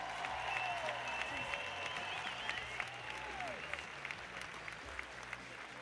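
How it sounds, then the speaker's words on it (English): Crowd applause in a tennis stadium at a doubles match, steady dense clapping that holds for several seconds, faint and distant, with a voice over the public address sounding above it. "Let's have another round of applause for them."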